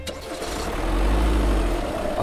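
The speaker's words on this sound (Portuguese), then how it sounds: "funcionar o motor e partiu." A Jeep Renegade Willys engine starts at the push of a start-stop button and settles into a steady low idle, close and fairly loud, with no talk.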